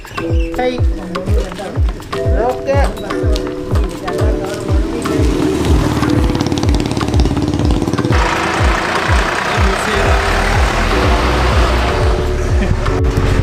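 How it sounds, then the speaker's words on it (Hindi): A tractor engine runs nearby on a hill road around McLeod Ganj, thumping in a slow, regular knocking rhythm that quickens into a steadier drone, loud and close, with people talking over it. "ये जो ट्रैक्टर आपने पीछे देखा"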